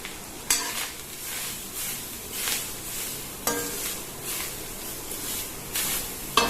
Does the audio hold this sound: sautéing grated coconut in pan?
yes